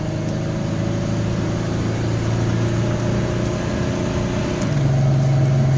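A 1985 Chevy S10 with a swapped 3-speed transmission hums along while driving, its engine tone holding steady and then stepping up in pitch near the end as it downshifts, with no talking.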